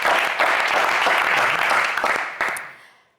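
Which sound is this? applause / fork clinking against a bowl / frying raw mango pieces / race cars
applause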